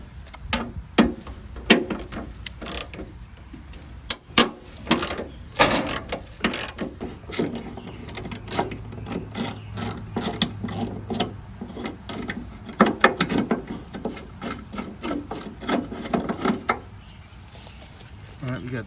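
A ratchet with a Torx T50 bit works loose the door striker on a Ford Mustang II, giving rapid bursts of close metallic clicking and clattering in uneven runs, with someone speaking in between.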